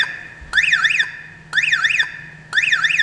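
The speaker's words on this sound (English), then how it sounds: "the siren will sound" An Aliexpress remote car alarm siren blares in three loud, identical bursts about a second apart, each a rising-and-falling warble with short pauses between.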